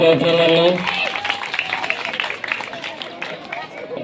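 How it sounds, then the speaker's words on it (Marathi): Audience applause at an Independence Day prize ceremony, following a brief tonal sound, as a dense, steady wash of clapping with murmuring crowd noise. "जोरदार टाळ्या वाजवतो तिच्यासाठी"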